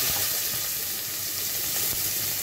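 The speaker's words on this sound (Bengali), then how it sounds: "পেঁয়াজটা কিছু ভালো করে ভেজে নেব" Chopped onion fries in hot oil in a pan with a steady, dense sizzle and hiss that stays loud and unbroken throughout, close up with no voices.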